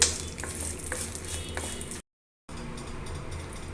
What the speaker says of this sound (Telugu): మిరపకాయలు కూడా బాగా వేగినయ్యండి